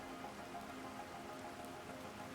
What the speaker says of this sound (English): Oh, I love the rain.